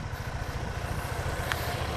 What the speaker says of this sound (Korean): 그리고 한 번 더 오토바이로 고고.